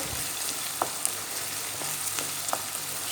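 Chopped onions sizzle in a hot pan while being stirred and sautéed for a chickpea and black cabbage dish, a steady fry hiss with occasional soft scrapes of the spoon.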